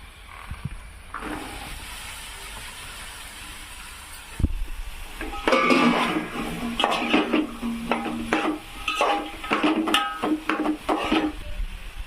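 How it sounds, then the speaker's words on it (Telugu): Chopped ridge gourd pieces tipped into a pan with turmeric and stirred, a sudden thump followed by steady scraping, clinking and a soft sizzle that carries on up close. "ఇప్పుడు బీరకాయలు అయితే వేసుకుందాం."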